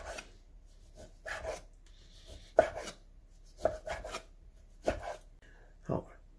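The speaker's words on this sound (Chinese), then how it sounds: "首先，里脊切片" A knife slices pork loin on a board in several separate strokes spaced about a second apart, close and fairly quiet, over a hushed kitchen background.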